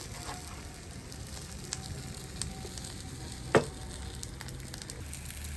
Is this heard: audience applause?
no